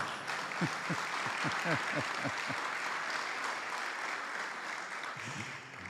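An audience at an award ceremony for the Medalha do Mérito Farroupilha applauds in steady, even clapping throughout, with a voice briefly heard over it near the start and again at the end.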